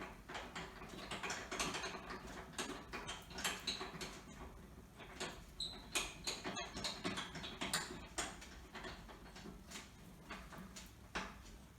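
Clamps on a telescope mount being tightened, heard as a faint run of small mechanical clicks and ratcheting ticks, some in quick clusters, close to the microphone and with no voices.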